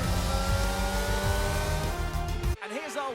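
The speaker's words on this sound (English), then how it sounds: "here's our winner, pulling their Ferrari into Parc Fermé after a fantastic race" A Ferrari Formula 1 car in the F1 22 racing game rolls into parc fermé at Bahrain, its engine a loud, steady rumble with revving pulses that cuts off abruptly near the end, leaving quieter tones.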